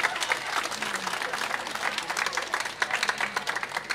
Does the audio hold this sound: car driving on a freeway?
no